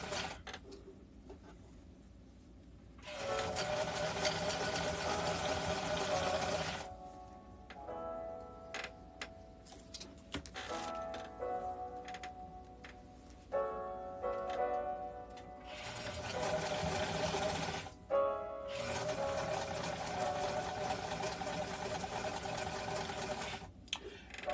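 A sewing machine stitches in the ditch along a waistband in several bursts of rapid, ticking mechanical chatter, separated by quieter pauses and handling sounds.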